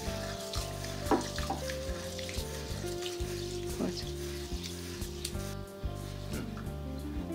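Split mung dal being washed in a bowl of water, with steady splashing and swishing close by, quiet and continuous, and a tonal background hum underneath.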